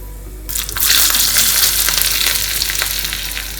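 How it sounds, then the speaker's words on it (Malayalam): Mustard seeds crackle and splutter in hot oil in a pan for a Kerala raw mango and jackfruit seed curry, a loud dense sizzle that bursts in after a brief pause and keeps popping steadily. "അങ്ങനത്തെ കടുകൊക്കെ നന്നായി പൊട്ടി വരാൻ തുടങ്ങിയിട്ടുണ്ട്"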